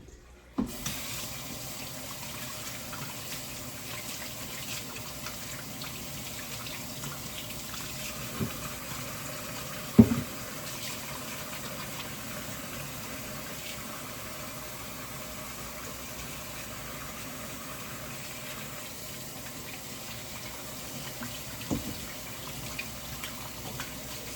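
Tap water runs steadily into a kitchen sink while a dish is rinsed out, a continuous hiss with a few brief clinks and knocks, close by and alone with no talk.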